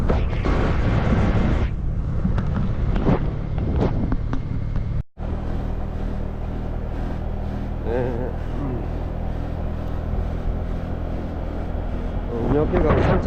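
A waterfall beside the trail at Sín Chải in northern Vietnam gives off a steady, broad rushing roar that fills the whole clip, with wind buffeting and voices speaking over it.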